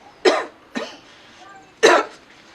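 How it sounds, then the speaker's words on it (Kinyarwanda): Three raspy coughs, close and fairly loud, spaced irregularly with a quieter middle one, over faint background noise. "Mfite n'inkorora nyinshi."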